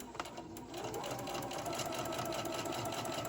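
A sewing machine stitches fabric for a candy cane ornament with ribbon tucked inside, a steady close whirring hum that starts after a brief pause and runs unbroken to the end.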